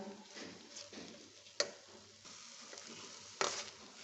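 Modak mixture stirred continuously in a pan over a low gas flame, a soft steady sizzle with faint scraping and two sharp clicks of the spoon against the pan.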